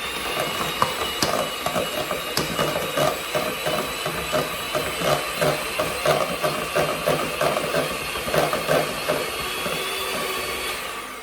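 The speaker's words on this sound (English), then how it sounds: "I'm just going to give it a quick whisk with the whisk before starting adding in the icing sugar" Softened butter whisked by hand in a bowl, a fast rhythmic scraping and clattering of the whisk against the bowl, close and continuous throughout.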